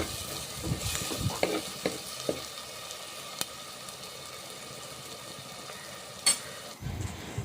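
Green chilies and curry leaves sauté in hot oil for a fish curry, a steady sizzle carrying scattered scrapes and taps of a stirring spoon, with a louder clatter near the end.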